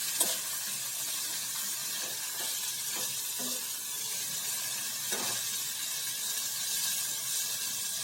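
Turmeric and coriander-cumin powder stirred into a cabbage and potato dish sizzling in a pan, a steady bright hiss of frying throughout with a few soft scrapes of the spoon, alone without voices.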